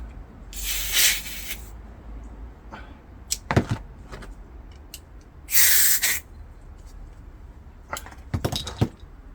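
CO2 capsules being tightened into airgun magazines for a 4.5 mm L1A1 SLR replica, two loud bursts of gas hiss separated by metallic clicks and clinks, close and without talk.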